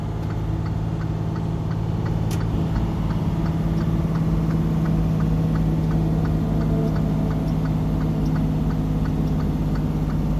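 A heavy truck's Detroit DD15 engine brake holds back the rig on a long downhill grade, a steady loud mechanical drone with a rapid ticking pulse running throughout, without any talk.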